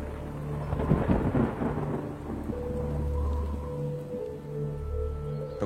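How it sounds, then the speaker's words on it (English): A violent thunderstorm over Richmond, with heavy rain hissing steadily and deep thunder rolling and rumbling close and loud throughout, with no voices. "On the day of the uprising, a violent storm hit Richmond."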